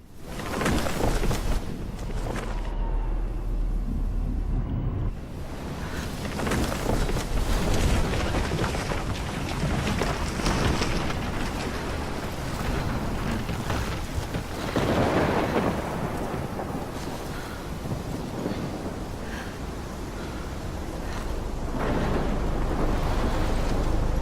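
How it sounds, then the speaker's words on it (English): A loud, steady thunderstorm in the game Life is Strange, set in Oregon: heavy rain and gusting wind roar without a break while deep thunder rumbles swell underneath. No one speaks. "never seen a storm like this in Oregon"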